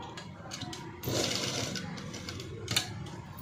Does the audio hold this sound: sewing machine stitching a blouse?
yes